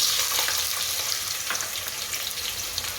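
Potato goes into hot, already-spiced oil for Gujarati wagharela bhaat, producing a close, loud, continuous sizzle with crackling pops and occasional stirring scrapes.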